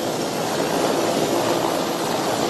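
A Ghana Air Force Mi-17 helicopter hovers during a military fast-roping demonstration at an Independence Day parade, giving a loud, unbroken roar of rotor and engine noise throughout, with no voices.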